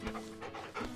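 A dog panting in Final Fantasy XVI, quick rhythmic breaths close up and alone for about a second.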